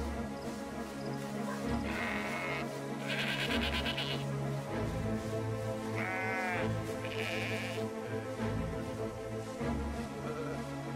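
Sheep in the video game Soldats Inconnus bleat several times in short wavering calls over a steady low droning game soundtrack, each bleat fairly clear and separate.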